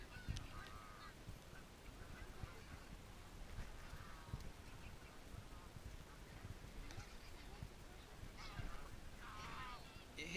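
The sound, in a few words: birds coming to be fed bread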